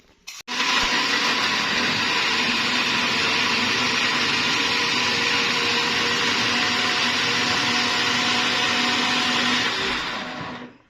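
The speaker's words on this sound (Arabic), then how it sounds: "هعمل ده بقى الخلطه دي كلها كده في الخلاط" A blender mixing a marinade runs steadily at high speed for about ten seconds, a loud continuous whirring roar that starts abruptly and winds down at the end.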